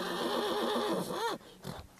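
German stallion, two and a half years old, giving a loud close whinny with a wavering, rising and falling pitch, followed by softer breathy snorts.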